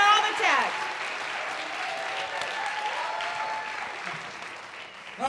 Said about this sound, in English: Let's give them another well-deserved round of applause and standing ovation if you feel like it.